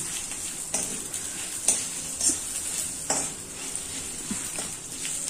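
Mushroom gravy masala fries in a pan with a soft continuous sizzle, broken by several sharp scraping clinks of a spoon stirring against the metal.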